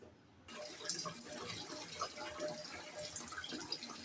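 Water poured into a pan of spiced chickpeas during cooking gives a steady, close splashing and gurgling wash that starts abruptly after a brief quiet moment and continues evenly, with no talking.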